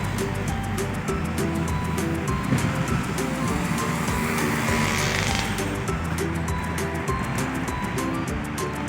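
Water flows along a small artificial stream in a Jakarta park, a constant rushing wash with faint ticking and background hum, no one speaking.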